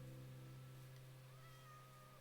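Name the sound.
cat meowing in the video game Minecraft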